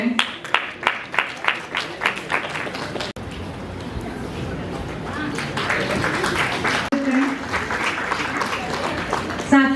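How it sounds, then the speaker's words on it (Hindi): An audience at a municipal civic awards ceremony claps, starting with distinct rhythmic handclaps in unison before spreading into a dense, loud wash of applause from the crowd, with some voices mixed in. "आपकी तालियों में और करतल ध्वनि में"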